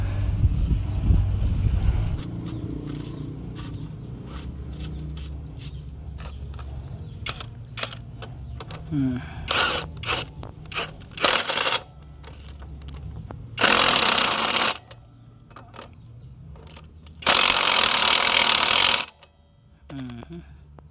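A Tanzu 320N impact wrench tightens a nut with several short rattling bursts followed by two longer, loud hammering runs, with handling clatter in between.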